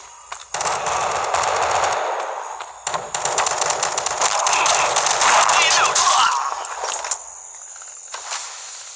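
Gunfire from a shotgun in a video game, with bursts of loud, dense shots in two long stretches separated by a short pause, then tailing off near the end.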